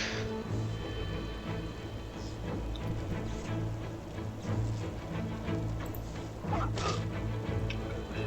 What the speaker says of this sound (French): Le chien qui continue d'attaquer.